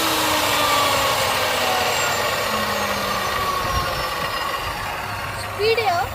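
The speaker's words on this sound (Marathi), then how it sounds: "हे एंगल आहे ना हे लोखंड कापायचं मशीन आहे" Steady grinding whine of an angle grinder cutting iron, continuous throughout with a rising squeal near the end.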